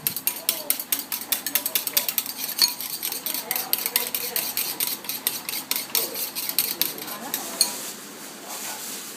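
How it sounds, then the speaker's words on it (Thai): Rapid, steady scraping and tapping of a whisk against a bowl, a fast rhythmic rasp that slows and fades near the end. "แล้วก็ตีตีตีตีทุกอย่างให้เข้ากันจ้า"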